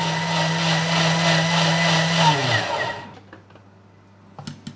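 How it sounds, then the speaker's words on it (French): A blender whirs loudly while it purées a cooked tomato mixture for a tomato and pineapple carpaccio, then winds down and stops after about three seconds, followed by faint clinks and handling noises. "Donc là, on va mixer l'ensemble."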